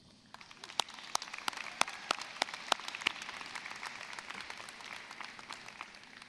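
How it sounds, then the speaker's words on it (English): An awards ceremony audience applauds, a steady wash of many hands with a few sharper, louder claps standing out, moderately distant and fading slightly toward the end. "another round of applause"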